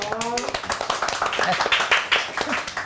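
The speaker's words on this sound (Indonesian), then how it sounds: "Tepuk tangan boleh dong biar nggak sepi" A few people clap in a small podcast studio in a scattered, uneven rhythm, fairly light and close by, while voices talk and greet over the clapping.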